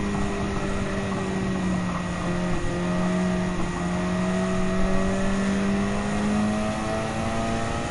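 Race car engine in Gran Turismo 7, a steady loud high-pitched drone holding a sustained pitch with slight rises, continuous and close with no talk.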